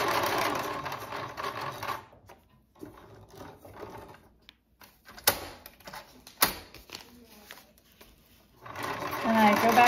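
A sewing machine stitches a handle onto a bag made from a grain feed sack, running in short bursts with pauses between and a couple of sharp clicks, while a person talks at the start and end.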